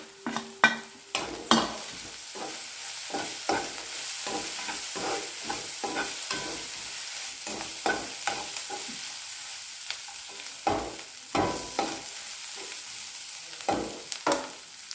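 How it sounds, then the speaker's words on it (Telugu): A ladle stirs frying garlic paste masala with turmeric in a pan for cauliflower egg curry, repeated sharp scraping strokes in an irregular rhythm over a soft continuous sizzle, close and clear with no talking. "ఇందులో పసుపు కూడా వేసుకొని అంతా కలిసేటట్టు కలుపుకోవాలి"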